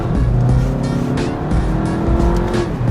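A 2021 Skoda Superb with a 2-liter TSI engine accelerates hard in manual sport mode, its engine note climbing loudly and continuously through a gear change with a bright, strained edge.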